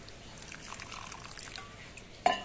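A little water trickles into a bowl of semolina and sour curd dough mixture, giving a soft, faint pouring sound that ends in a sharper splash near the end.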